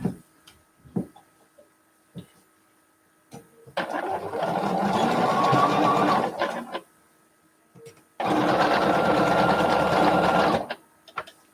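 A sewing machine stitches quilt fabric in two long steady bursts of close, loud mechanical whirring, separated by a pause with small clicks and handling noises.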